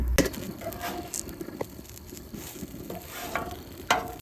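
Oiled, seasoned eggplant frying in a pan over a camping stove flame makes a quiet, close sizzle with scattered pops and faint scrapes, without talk.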